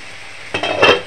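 Marinated chicken for a Gondhoraj lemon chicken hits hot spice paste in a pan, setting off a sudden close burst of hissing and a light utensil clatter.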